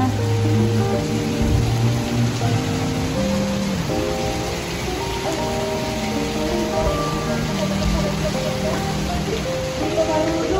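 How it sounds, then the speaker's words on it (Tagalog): Heavy rain pours steadily outside a balcony in Baguio City, a dense, constant hiss that fills the whole scene with faint tonal sounds running underneath. "Lakas ng ulan."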